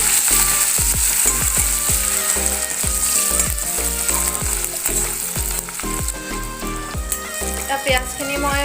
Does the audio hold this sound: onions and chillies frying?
yes